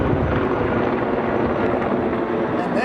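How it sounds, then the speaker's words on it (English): A firefighting helicopter works overhead during water drops, its rotor wash making a steady, loud, dense roar that fills the whole moment without a break. "You don't mind those helicopters at all, do you?"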